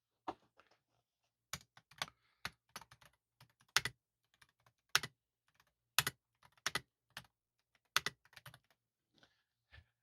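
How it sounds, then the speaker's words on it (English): Keys clack on a Data General Dasher terminal keyboard in scattered, irregular bursts of sharp close clicks with pauses between, fairly quiet and alone. "Let me go do one more type test."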